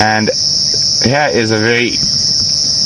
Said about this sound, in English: I followed a noise on the ground, so I thought, well, that can't be a cicada, it must be a cricket.